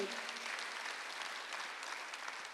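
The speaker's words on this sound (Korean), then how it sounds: "박수 한번 더 해주세요" A church congregation applauds during a Korean Sunday worship service, a steady, even wash of clapping that holds for the whole stretch, moderately distant, with faint voices underneath.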